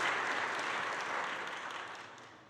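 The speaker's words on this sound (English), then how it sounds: "why don't you just clap your hands and celebrate?" Audience applause fills a birthday celebration honoring a 95-year-old reverend, a dense, steady wash of many hands clapping that tapers slightly toward the end.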